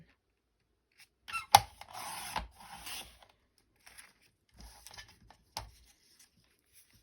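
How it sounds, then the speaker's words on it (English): A paper cutter slices through colored craft paper at a hobby desk: a short scraping, sliding rasp with a sharp click, followed by quieter shuffles and taps in a quiet room with no talk. "take my paper cutter"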